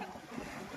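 A boat out on the open ocean off Pondicherry, with a steady wash of wind and water noise around it and no clear voices.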